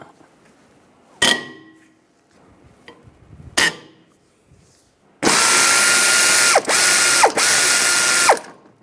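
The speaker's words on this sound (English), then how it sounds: "Using a 18mm socket, take these two bolts out." Bolts come out of a front brake caliper bracket on a 2006-2009 Mercedes-Benz E350 with an 18mm socket. Two short bursts of tool noise are followed by a long, loud, harsh mechanical whirring run with brief dips, all close up.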